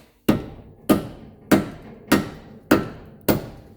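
A mallet hammers a castle nut onto a ball joint on a 2006 Subaru Impreza WRX: six sharp, close metallic blows in an even, steady rhythm, each ringing briefly, with no other sound.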